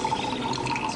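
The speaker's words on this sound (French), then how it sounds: "Ah ouais, le bon vieux robinet." An old water tap runs steadily at close range, a continuous splashing trickle with a faint ringing tone throughout.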